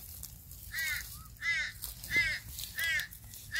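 A crow caws four times in a slow, evenly spaced series, moderately distant and faint over quiet outdoor background in an Australian garden, with no talk.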